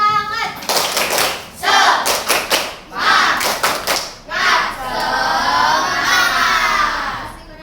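A school class performs a rhythmic spirit clap (tepuk semangat), loud patterned bursts of clapping in quick groups, mixed with children chanting and shouting together in the classroom.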